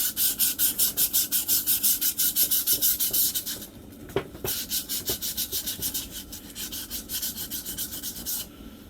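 Rhythmic back-and-forth scraping of abrasive sanding down the worn ridge inside a metal brake drum left by the brake shoes, steady fast strokes that pause briefly midway with a few clicks, then resume.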